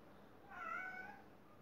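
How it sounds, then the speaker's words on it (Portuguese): A single short cat meow, fairly faint, rising and falling once over a quiet background. "E com o miado da minha gatinha"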